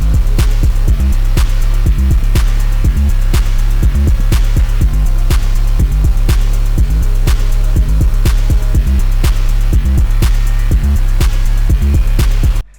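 A loud rave-style beat built in FL Studio pounds along with a reworked kick pattern, the heavy kicks hitting in a driving, repeating rhythm under crisp high percussion and synth layers until it cuts off abruptly near the end.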